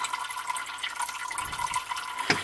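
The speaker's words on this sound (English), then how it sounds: "Gotta make sure that pipe drains out before we go any further." Water trickles and gurgles steadily as it drains out of a Frigidaire/Electrolux ice maker supply pipe under a sink, ending with a louder knock of handling.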